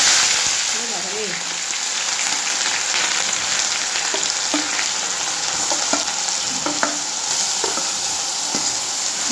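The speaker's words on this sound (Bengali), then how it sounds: "পেঁয়াজটা দিয়ে ভালো করে একদম কষিয়ে নেবে" Grated onions fry in a pan for a crab curry, a loud, dense, continuous sizzle with scattered stirring scrapes and clicks close by.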